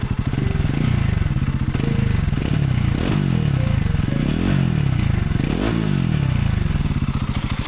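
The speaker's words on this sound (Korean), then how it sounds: "배기음은 이런 전형적인 단기통 배기음입니다" A Royal Enfield Guerrilla 450 single-cylinder motorcycle runs close by, its exhaust a steady throbbing thump with repeated throttle blips rising and falling, loud and alone.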